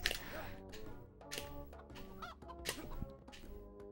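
Chickens cluck and squawk repeatedly in the Shrek Extra Large video game, loud, close game audio over a musical background, with no talking.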